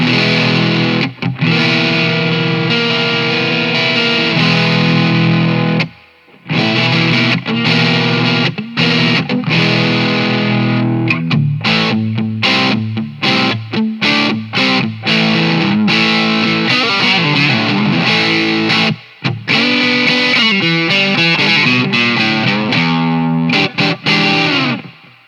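Electric guitar played through an OCD overdrive pedal, loud and heavily distorted, with sustained chords and riffs running continuously for about 25 seconds, broken by a couple of brief pauses, with no talking.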